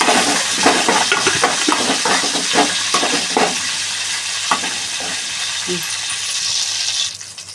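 Whole tempering spices dropped into hot oil for an Andhra-style dal and tomato lunch crackle and sizzle loudly, with scattered sharp pops and stirring scrapes over a steady hiss that briefly swells near the end.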